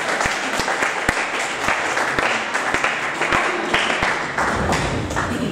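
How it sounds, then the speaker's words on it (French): A church congregation claps loudly and steadily, many hands merging into a dense, sustained applause with sharper individual claps standing out throughout. "Acclamons fort"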